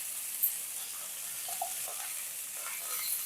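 Firm mixed vegetables frying together in a pan, a soft, steady hiss of sizzling oil with faint scattered pops, fairly quiet and without speech.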